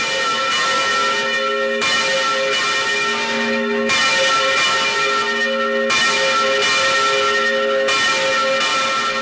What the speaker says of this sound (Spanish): Los 3 minutos largos de repique de campana resultan interminables cuando uno está justo debajo de ella